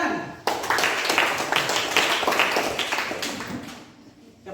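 Elementary school pupils applauding in a classroom, a dense burst of many hands clapping together that starts abruptly, holds steady for a few seconds, then thins and fades out.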